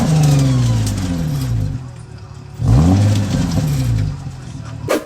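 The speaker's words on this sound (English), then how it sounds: "I do got a clip of the serpentine belt shredding." Infiniti G35 engine revved twice outdoors while its serpentine belt shreds, loud close rising and falling engine sweeps with rough squealing, and a voice speaking over the noise.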